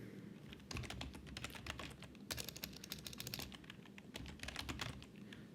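Steady, close computer keyboard typing as an SQL query is entered, with rapid irregular keystrokes and brief pauses running throughout, no voices.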